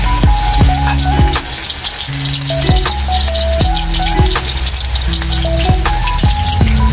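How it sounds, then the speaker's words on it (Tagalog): Steady, loud sizzling of chicken wings frying in hot oil, a continuous crackle with occasional pops and clinks of a utensil; a brief word is spoken. "kumukulo na po ang ating mantika"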